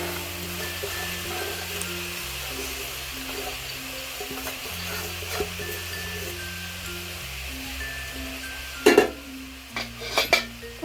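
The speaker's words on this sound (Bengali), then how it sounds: "এই যে আমের টুকরো সহ একদম জল সহ দিয়ে দিচ্ছি কড়ার মধ্যে" Raw mango pieces with their sugary syrup poured into a kadai and stirred: a soft, continuous wet swish and faint simmer, then a few sharp metal scrapes and clinks of the spoon against the pan near the end.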